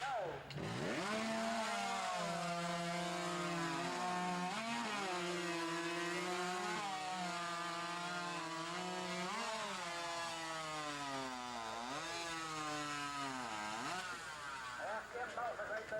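A chainsaw screams through a 14-inch-diameter log in a timed cutting competition, its engine loud and steady throughout with repeated pitch dips and recoveries as the chain bites and the revs climb again.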